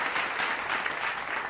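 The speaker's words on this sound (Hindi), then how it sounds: "ताली बजाओ प्लीज।" Brief, steady applause from an audience at a comedy poetry show, a continuous wash of claps at moderate distance with no talking over it.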